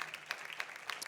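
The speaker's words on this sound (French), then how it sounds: "Pouvons-nous juste applaudir pour nos mamans, juste pour les remercier de tout ce qu'elles font pour nous?" A church congregation at a Mother's Day service applauds for the mothers, a faint, distant patter of scattered clapping with a few sharper claps standing out.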